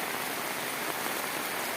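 Heavy monsoon rain pours down on a coastal Malnad village, a dense, loud, unbroken hiss of drops hitting surfaces with no voices over it.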